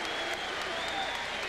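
A boxing crowd cheers and applauds after the bell of a Ricky Hatton versus Ben Tackie fight, a steady dense roar of clapping and voices that holds loud and even for the whole moment.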